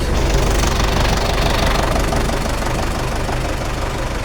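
A 1990 Belarus 82.1 tractor with an old diesel engine idles close by, a loud steady knocking chug with a rough vibrating rhythm, on its own.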